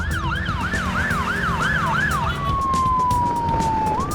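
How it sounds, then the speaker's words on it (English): An emergency motorcycle siren wails in a rapid rising-and-falling yelp, then switches to a long, slowly descending tone over steady traffic rumble. "on blue lights and sirens, he can travel faster than the speed limit"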